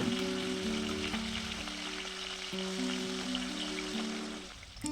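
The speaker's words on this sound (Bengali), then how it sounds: "মাছগুলোকে বেশ লাল করে ভেজে নেব" Bata fish frying in a pan, a steady close sizzle with spitting oil over a faint tonal hum that shifts pitch, continuous for several seconds with no talk.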